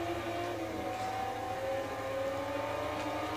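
Car engine in Forza Motorsport 3 gameplay on Xbox 360, heard as a continuous, steady whining drone of revs at moderate level.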